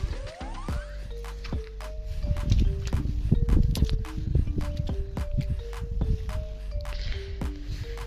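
A horse's hooves clip-clopping along a rocky mountain trail near a lake, irregular sharp knocks with scuffing and rustling, fairly close and steady throughout.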